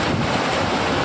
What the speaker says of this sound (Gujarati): પવન કેવો આવે